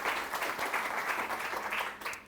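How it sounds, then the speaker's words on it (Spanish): A church congregation at a Sunday service applauds in a steady burst of mixed clapping that carries through the whole moment. "Regálele un aplauso al Señor."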